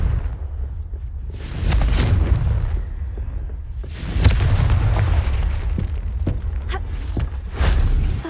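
Confringo blasting spells exploding in the wizarding game Hogwarts Legacy, heard as three loud, booming bursts spaced a few seconds apart, each followed by a rumbling, crackling tail.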